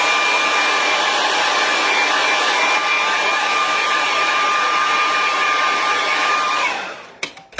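Hair dryer blowing steadily and loudly on Colour Blast inks for about seven seconds, with a constant whine, then cutting off abruptly near the end.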